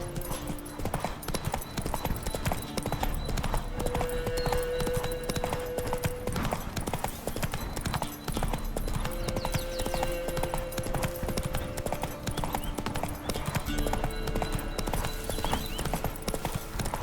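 Roach, Geralt's horse in the video game The Witcher 3, trotting with steady, continuous clip-clop hoofbeats throughout, loud and close, over a background of ambient game music with sustained tones.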